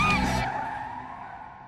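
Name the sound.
car skidding in a car accident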